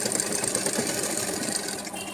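A sewing machine stitching a bag strap, a close, steady, rapid mechanical whirring and clatter that runs without a break.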